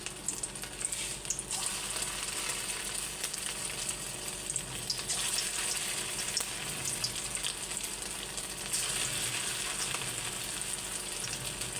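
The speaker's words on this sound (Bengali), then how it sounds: "এইভাবে ভাজতে হবে।" Chicken kofta mixture with ginger, garlic, salt, chili powder and turmeric fries in a pan with a steady, close sizzle and crackle. The sound runs unbroken throughout with no talking.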